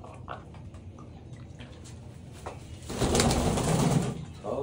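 Domestic pigeons coo softly in a home loft, a low burbling swell that grows fuller near the end over a quiet background.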